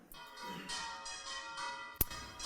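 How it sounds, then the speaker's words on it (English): A bell tolls with a long shimmering ring, followed by a sharp metallic strike near the end; no voices. "I'm going to play for you a few examples of the kinds of bells"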